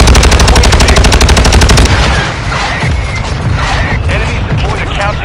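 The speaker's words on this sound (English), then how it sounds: "Hostile mortar strike incoming." A mortar strike and gunfire in Call of Duty Modern Warfare 2 begin with loud, rapid automatic fire that rattles for about two seconds, then give way to a dense wash of blasts and crashes, with game voices over the top.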